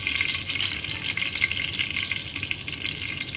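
Fenugreek seeds frying in hot oil as a tempering for a poa fish curry, a steady close crackling sizzle with bright spitting pops, heard alone.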